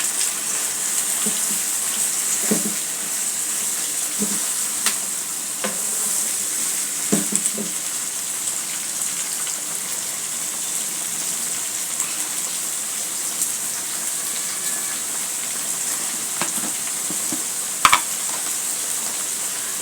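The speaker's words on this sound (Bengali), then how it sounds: "এখন দিয়ে দেবো আমি করলাগুলা" Bitter gourd frying in a pan, a loud continuous hiss and sizzle with a few sharper pops and clicks from the pan scattered throughout.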